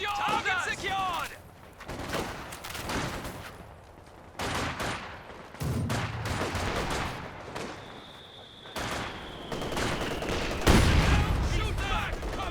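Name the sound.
Maxim machine gun firing in Company of Heroes 2 video game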